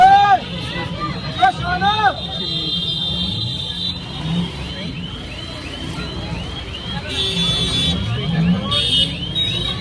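An auto rickshaw rides through a busy street in Vrindavan, with a steady rumble of traffic, engines and horn-like tones all around and voices chattering nearby throughout.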